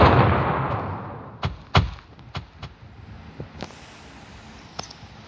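A big booming blast that decays into a low rumble, followed by several sharp, punchy bangs and thuds scattered across the following seconds, with no talking.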